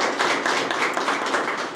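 An audience applauds at a historical exhibition opening in Sosúa, with steady, dense clapping from a crowd throughout the short stretch, fairly loud and close.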